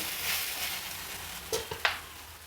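Curry leaves sizzle briefly in a hot pan for an eggplant chutney, giving a faint steady frying hiss with a few sharp crackling pops near the end.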